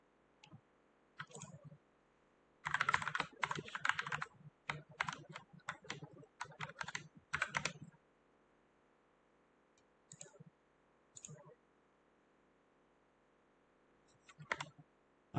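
Close, quiet clatter of typing on a computer keyboard, with a dense run of keystrokes in the middle, then scattered single clicks after a pause.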